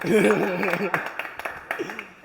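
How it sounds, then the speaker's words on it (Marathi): Scattered hand claps break out at a birthday celebration, a handful of sharp slaps spread unevenly while a voice talks loudly over the start and laughter mixes in. "टाळ्या."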